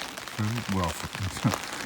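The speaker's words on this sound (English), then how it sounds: "As you can probably hear, it's starting to come down worse now" Rain falling outdoors in steady, worsening weather during a summer broad bean harvest, a soft continuous patter heard beneath a voice talking close by.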